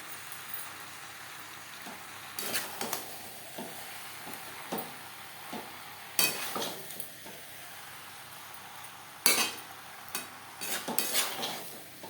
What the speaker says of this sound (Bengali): মশলা ও মাছের সাথে আলু পটল বেশ ভালো করে মিক্সড করে দেবো